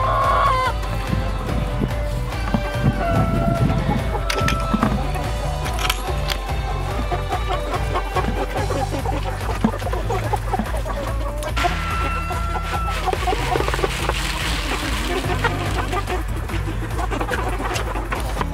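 Several chickens cluck and squawk continuously nearby, with roosters crowing now and then over a busy farmyard background.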